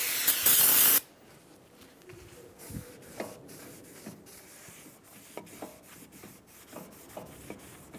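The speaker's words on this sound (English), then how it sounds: "Using some parts cleaner and a clean rag, I'm going to clean any of the extra anti-seize that I wiped onto the rotor." A brief hiss of parts cleaner sprayed onto a Toyota Camry brake rotor, followed by soft rubbing and wiping sounds from a rag on the metal.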